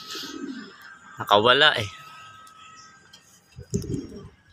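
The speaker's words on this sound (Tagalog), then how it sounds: "Ayan yung mga ibon natin." Pet pigeons kept in a cage coo and flutter close by, with a short cooing burst early on and a rustle of wings later, while someone speaks briefly.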